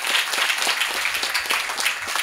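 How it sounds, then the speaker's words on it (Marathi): A crowd at a devotional kirtan program during the month of Shravan claps together in sustained applause, a dense, even patter of many hands close by that continues throughout. "दातृत्ववान मंडळीसाठी जरा जोरात टाळी वाजवूयात आपण"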